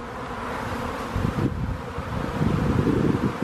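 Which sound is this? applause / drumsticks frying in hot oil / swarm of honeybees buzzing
swarm of honeybees buzzing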